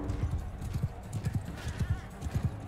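Horse hooves gallop in Mount & Blade II: Bannerlord, a video game battle, with a steady rapid clip-clop rhythm of repeated thuds, fairly close and continuous throughout.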